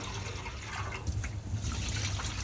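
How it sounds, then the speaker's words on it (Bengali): Running water from a kitchen tap trickles and splashes as a kitchen item is rinsed, a soft steady flow with small irregular splashes, quiet and close. "তো সুন্দর করে ধুয়ে দিচ্ছে।"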